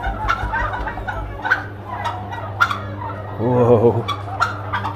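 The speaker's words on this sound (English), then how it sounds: "Already I can hear the turkeys in there." Many turkeys gobble in repeated bursts inside a crowded farm shed holding over a thousand large birds ready for slaughter, the calls loud and overlapping, with a brief low hum mid-clip and a short exclamation from a person.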